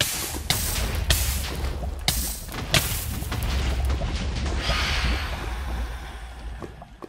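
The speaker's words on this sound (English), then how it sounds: "let's see if there are more explosions at qwert" Repeated explosions in the video game Minecraft, several sharp booming blasts at irregular intervals over a continuous rumbling, crackling wash, loud and fairly close, with no talking.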